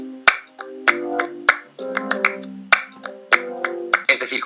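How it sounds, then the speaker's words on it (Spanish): Flamenco palmas opening a song: sharp, bright handclaps struck in a steady rhythmic pattern over sustained electric piano chords, crisp and close with a flurry of quicker claps at the end. "con unas palmas flamencas"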